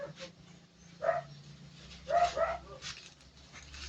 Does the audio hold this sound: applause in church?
no